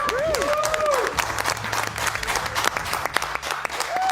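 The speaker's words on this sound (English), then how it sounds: "Give these guys a round of applause." A crowd applauds a sports team in Australia, dense steady clapping with a few whistles and cheers rising over the top, sustained and fairly close throughout.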